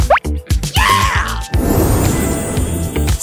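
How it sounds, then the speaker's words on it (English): Cartoon liquid drips as soda leaks from a fondue setup: a few bright plopping drops near the start, then a busy bubbling, splashing wash of liquid sound under a rising whistle-like tone. "Starting with a small drip."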